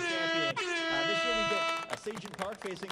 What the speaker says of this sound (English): Hopefully that air horn will wake some of y'all up.